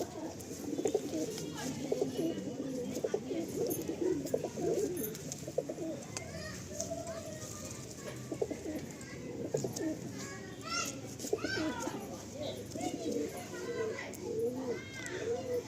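Pigeons coo repeatedly inside a loft holding birds for sale, with other birds calling around them and faint children's voices and background chatter throughout.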